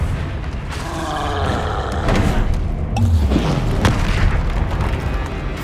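A Confringo explosion spell cast in Hogwarts Legacy, a deep rumbling boom with a fiery whoosh and rolling thuds that sustain loudly for several seconds.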